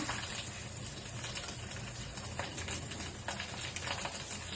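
Mustard seeds and green chillies frying in hot oil give a steady, dense sizzle with faint crackles and pops, close and continuous, with no talk.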